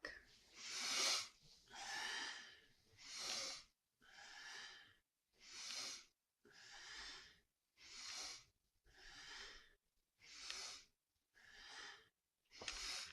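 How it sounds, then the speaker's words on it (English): Deep breaths are drawn in and pushed out during yoga spinal flexes, about eleven strong, regular breaths close to the mic. Short silences separate them. "Nice, deep, powerful breaths."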